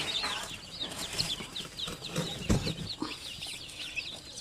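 Hens cluck alongside their chicks at a poultry farm, a busy mix of low clucks and high, thin peeping that runs continuously, with one louder cluck near the middle and no talking.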